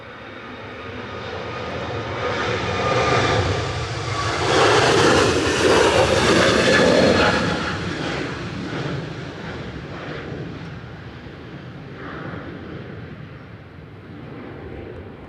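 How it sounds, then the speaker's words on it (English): A Turkish Airlines Airbus A321neo rolls down the runway for takeoff, its engine roar building to a loud broadband peak midway, then easing off as the jet climbs away. "Turkish on the roll with an A321 Neo TCLPL."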